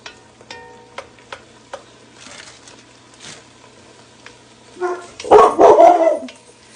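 A few sharp taps of a spoon on a pan ring out early, then a dog barks loudly several times near the end, in a quick cluster.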